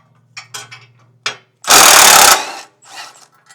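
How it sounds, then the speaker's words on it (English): A ratchet with an extension and an 18mm socket backs out exhaust bolts on a Segway Villain, giving a few short clicking bursts, then one loud, fast buzzing ratchet run of under a second, then more brief clicks, close up. "we're gonna need our favorite ratchet with our extension and our 18mm socket"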